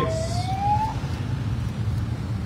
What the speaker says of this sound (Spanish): se está realizando el banderazo de salida de 153 patrullas de la Secretaría de Seguridad Ciudadana